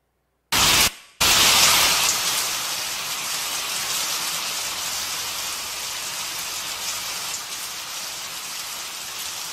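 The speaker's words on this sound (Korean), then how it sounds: "비가 오는데 주발 하나는 바로 놓고 주발 하나는 엎어놨어요." Rain pours down onto bowls left outdoors, one upright and one upside down, a dense steady hiss of drops that starts abruptly after a brief gap and holds constant throughout.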